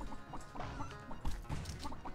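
Chickens in the arcade game Chicku 2 cluck in quick, repeated bursts, close and clear, with a few brighter squawks among the chatter.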